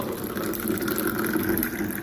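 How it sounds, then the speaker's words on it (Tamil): Water pours steadily into a glass tumbler, a continuous close gushing fill that lasts throughout without any voices. "ஒரு கிளாஸ் டம்ளர் எடுத்துக்கோங்க ஓகேங்களா அதில் வந்து நீங்கள் தண்ணி ஊற்றிக்கோங்க"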